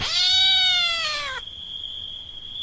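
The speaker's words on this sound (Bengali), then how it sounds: "বাড়ির পিছন দিক দিয়ে একটা কালো বিড়াল বিকটভাবে ডেকে গেল" A black cat yowls loudly behind a village house in a Bengali ghost story, one long drawn-out wail lasting over a second, followed by a faint lingering tone.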